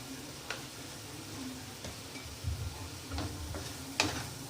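Potatoes with salt stir-fried in a pan, heard faintly as a soft sizzle with scattered light taps and scrapes of a spatula against the pan.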